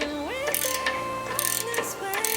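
A ratchet tightens a Fox strut bolt during a suspension install, short mechanical clicks mixed with a whirring tonal sweep and other close workshop sounds.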